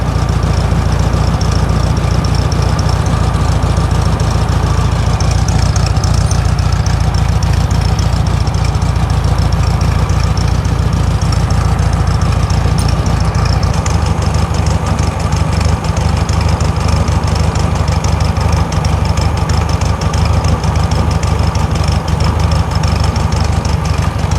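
A 1964 VW Beetle with a 1600cc engine idles steadily, close and loud, with a constant low rumble and a fast, even tick that runs through the whole stretch with no talking.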